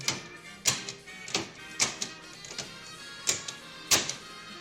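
Piano-key buttons on a dirty 1978 Magnavox VCR clacking as they are pressed, about seven sharp, separate mechanical clicks at an uneven pace, close up.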